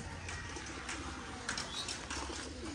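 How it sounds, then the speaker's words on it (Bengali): Two pigeons perched in a tree in the morning coo softly among other faint bird calls, the sounds fairly quiet over a steady outdoor background. "সকালবেলা গাছের মধ্যে দুটো পায়রা বসে দেখতে পাওয়া যাচ্ছে"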